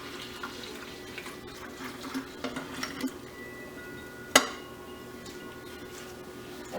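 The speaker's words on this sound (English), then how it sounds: "I'll just fill the remaining part up with water." Tap water runs steadily into a container of cooled sweet tea and SCOBY for Dr. Pepper kombucha, a soft continuous rush with faint clinks and one sharp knock partway through.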